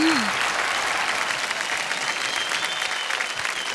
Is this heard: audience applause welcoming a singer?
yes